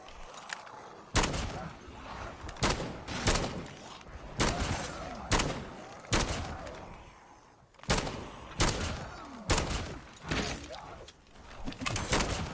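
Gunfire from a gun in Call of Duty: loud, sharp shots in an irregular sequence of about a dozen blasts, each followed by a short echoing tail, with no talk.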